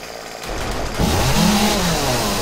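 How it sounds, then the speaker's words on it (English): A chainsaw revs up in a zombie survival video game during a horde night, a loud rising engine buzz that grows and holds steady with no talking over it. "The chainsaw is awesome."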